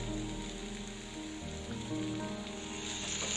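Coriander leaves and curry leaves sauté with grated coconut in a pan for chutney, giving an even, continuous sizzle that stays close and steady with no voices over it.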